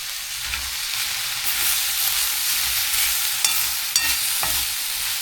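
Food being stirred and mixed in a stainless steel pan, a soft sizzle with scraping and occasional clinks of the utensil against the metal, close up and without talk.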